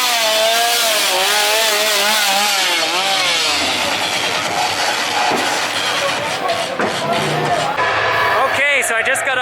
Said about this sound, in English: 'Cause that is a gas-powered chainsaw.